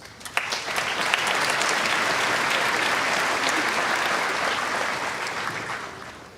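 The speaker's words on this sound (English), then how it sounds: "Give yourselves a round of applause." Sustained applause from a crowd at a high school graduation ceremony, steady and full for several seconds, fading slightly toward the end.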